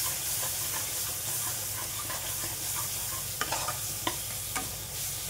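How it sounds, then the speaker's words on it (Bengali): A spice masala sautéing in a hot pan with steady sizzling hiss throughout, and a few sharp spatula scrapes and clicks toward the end; no voices. "দিয়ে আবার এটাকে ভালো করে এই মশলার সঙ্গে এটাকেও কষিয়ে নিতে হবে।"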